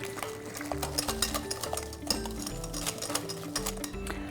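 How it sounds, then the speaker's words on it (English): Two room-temperature eggs being mixed into chocolate banana bread batter in a bowl, with soft, quick, repeated stirring and scraping sounds under background music. "And again, giving everything a good mix."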